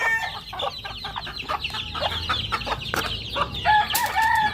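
Chickens and small chicks cluck and cheep continuously at close range, a busy overlapping chorus of short calls with a brief shrill crow-like call near the end.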